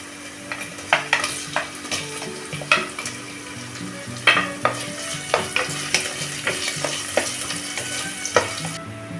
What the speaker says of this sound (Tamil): இதை நம்ம நல்லா வதக்கிக்கலாம்.